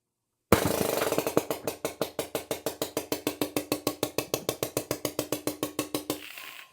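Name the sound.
BP50 firing steel ball bearings with stiffer bolt spring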